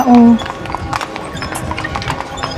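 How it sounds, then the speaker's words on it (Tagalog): Horse hooves clip-clop steadily along a Vienna street, one short voiced sound at the start and then a run of regular, fairly close strikes over busy street noise. "Diyos ko, kawawa naman yung kabayo."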